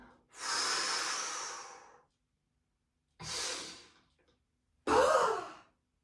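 Breathing exercise exhales: three separate breaths out, a long soft one, a shorter one, then a sharper forceful one, close and alone with silence between.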